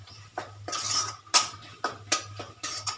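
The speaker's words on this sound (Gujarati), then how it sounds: "અને બધું પાછું મિક્સ કરી લઈશું." A spoon stirs paneer gravy with black pepper in a metal pan, giving irregular close clinks and scrapes against the pan over a low background hum.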